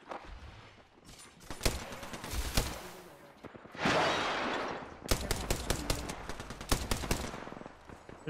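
Rapid bursts of video game gunfire, automatic weapons rattling in clusters with a whooshing pass in the middle, loud and close, with no talking over it.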